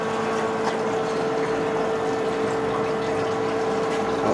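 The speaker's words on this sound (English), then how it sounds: "So just recirculating there with the hot PBW wash." Nano Brew pump recirculating hot PBW cleaning solution through a keg washer manifold into a keg and back to the basin, a steady, continuous pump hum with a strong tonal whine and gushing liquid throughout, close and alone.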